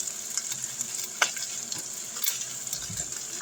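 Potato stirred and frying in a leftover egg skillet, a steady close sizzle with scraping clicks of the utensil against the pan at irregular intervals, no talking.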